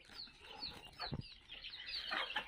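Fayoumi chickens on a small backyard farm give soft, faint clucks and scattered calls, distant and low against a quiet background, with no voices.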